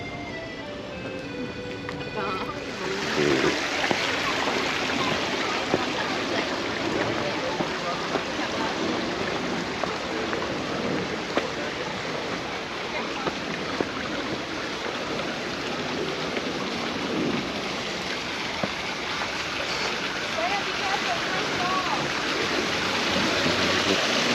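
A stream flows steadily over rocks in Central Park, New York, a dense, continuous rushing wash that stays close and even throughout with no talk over it.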